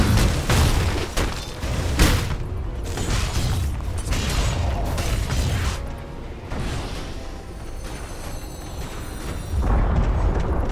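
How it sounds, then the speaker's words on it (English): Tower in Dota under assault during a ProDotA Cup China match, with loud continuous rumbling booms, bursts and clanking battle effects throughout, no talk. "Dire's bottom tower is under attack."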